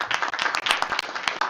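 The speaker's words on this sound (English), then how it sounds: "thank you for clapping" An audience at a school board meeting claps briefly, a dense patter of hands that stays fairly steady, fairly loud and close, with no talking over it.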